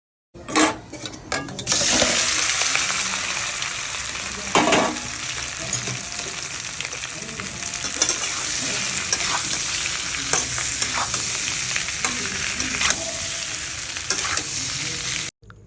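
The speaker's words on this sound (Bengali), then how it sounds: "ফোড়ন দেওয়ার পর আলুটা তেলের মধ্যে ছেড়ে হালকা লাল করে ভেজে আলুটাকে তুলে রাখতে হবে" Potatoes frying in hot oil tempered with garam masala and bay leaf in a kadai, a steady loud sizzle running almost the whole way with occasional stirring scrapes and clinks.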